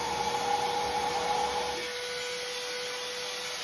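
A Temu portable air duster whirs at its first speed, a steady close electric fan hiss that holds throughout with a slight drop in tone partway, with no talking.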